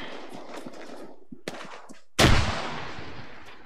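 A frag grenade blast in Arma 3 booms with a sudden heavy thud that rolls off into a fading rumble, preceded by scattered distant gunshots and rustling movement.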